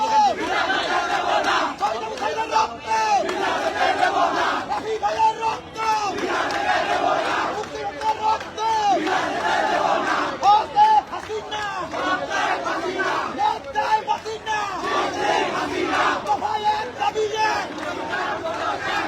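A dense crowd at a political rally chants slogans loudly and continuously in rhythmic unison, voices massed and sustained throughout.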